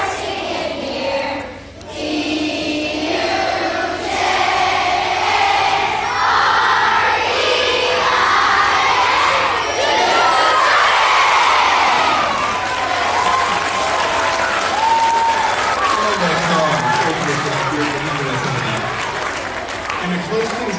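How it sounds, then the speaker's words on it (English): A school crowd of elementary children cheers and claps loudly and continuously at an award surprise in a gym or hall, with voices shouting together in a dense, sustained roar. "So let's give a cheer for old DJ."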